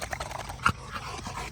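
Bishop, a muscular guard dog, pants and gives a short whimpering snort close up, with one sharper vocal burst amid quick breathing.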